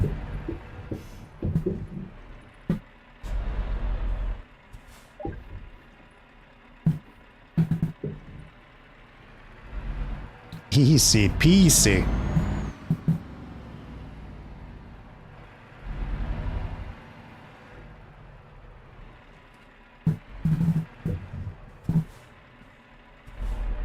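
Quiet truck engine from Euro Truck Simulator, with scattered thumps and one sharp whooshing turbo or air-release burst in the middle, while someone talks intermittently.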